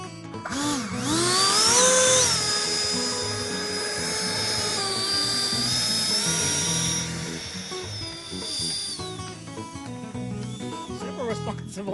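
An FMS Avanti 70mm electric ducted-fan RC jet motor spools up on the ground into a loud, high-pitched whine that surges, holds and dips with throttle changes, close to the listener with faint voices underneath.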